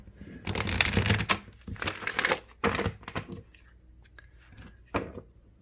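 A deck of tarot cards is shuffled by hand in several quick riffling bursts separated by short pauses, close and crisp.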